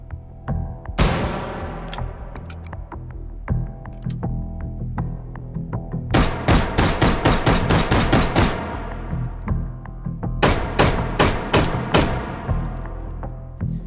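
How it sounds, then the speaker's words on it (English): Belt-fed machine gun in the VR shooter H3VR, loud and close, firing a single shot followed by two long sustained automatic bursts with brief pauses between them. "introducing, finally, belt-fed machine guns"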